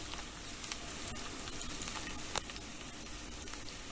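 Minced garlic fries gently in oil over low heat for a mushroom aglio olio spaghetti, giving a soft, even sizzle that holds steady throughout, with a single small clink partway through.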